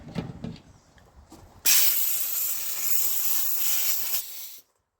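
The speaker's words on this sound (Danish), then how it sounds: "Så tager du noget lufttryk." Compressed air blasts onto a bicycle wheel hub of an Elitewheels Helix 46D wheelset during servicing, a loud, close, steady hiss lasting about two and a half seconds before cutting off abruptly, preceded by faint handling clicks.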